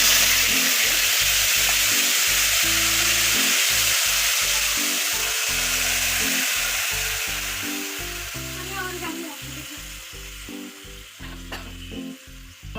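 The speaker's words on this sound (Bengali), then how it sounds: "মশলাটা আস্তে আস্তে কষবে, কষে যখন একদম শুকিয়ে যাবে তখন আমার চাটনিটা হয়ে যাবে।" Spice paste for a chutney fries in hot oil in a kadai, a loud continuous close sizzle with rhythmic pulsing from stirring, gradually easing and thinning toward the end.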